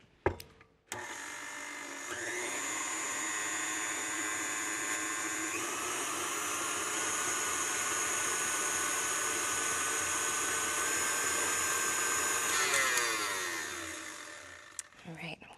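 Electric mixer beating peanut butter-style cookie dough of coconut flour, baking soda and palm sugar, a steady loud whirring motor that runs continuously for about twelve seconds, then winds down and stops.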